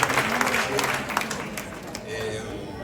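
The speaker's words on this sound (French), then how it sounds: "avec votre applaudissement, accueillons Matteo Garrone" An audience at a film screening applauds to welcome director Matteo Garrone, a sustained patter of clapping that rises with a few sharper claps and then gradually thins.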